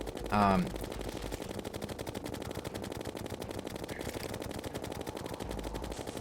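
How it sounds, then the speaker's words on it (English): Rapid automatic gunfire from a video game boss fight, a dense, continuous stream of shots at an even fast rhythm, with a brief louder burst near the start. "I am going to stop shooting now."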